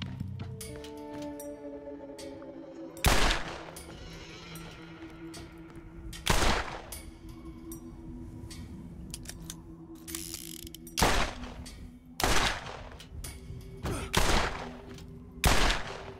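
Several loud, sharp shotgun blasts in the video game Borderlands, spaced a second or two apart, with mechanical clicks and a low hum between shots.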